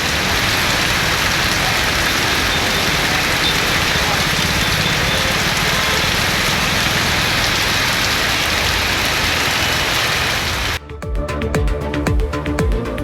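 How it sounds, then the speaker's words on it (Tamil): Heavy afternoon rain in Maduranthakam pours steadily and loudly on roads, a dense continuous hiss throughout, then cuts abruptly to a different noisy segment near the end; no voices are heard. "பிற்பகலில் திடீரென இடி மின்னலுடன் பெய்த மழையால் சாலைகளில் மழைநீர் பெருக்கெடுத்து ஓடியது"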